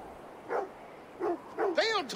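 Dog whimpering in Assassin's Creed Valhalla: several short soft whines and yips, ending in a rising and falling plaintive whimper, close and moderately loud over a quiet background.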